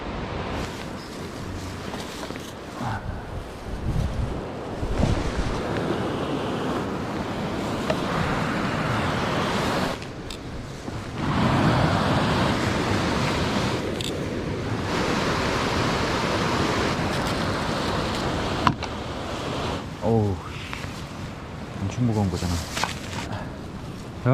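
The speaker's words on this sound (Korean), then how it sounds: "바로 앞에 폭포가 떨어지고 여기 위에는 돌들의 교향곡." Waterfall pouring over rocks, a broad continuous rushing wash of water that holds steady and close throughout, with someone talking over it now and then.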